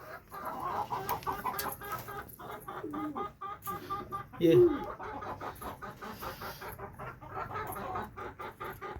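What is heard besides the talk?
pigeons being fed grain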